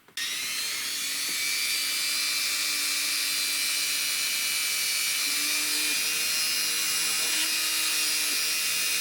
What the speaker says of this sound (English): So I'll get on with this drilling.